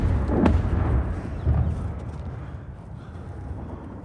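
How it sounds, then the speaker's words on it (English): Iron Dome interceptions of rockets fired from Gaza, heard as distant, booming bangs. Two heavy thuds come early, followed by a fading, rumbling tail over outdoor background noise. "Those bangs you can hear now, that's the Iron Dome, which is shooting most of them at the sky."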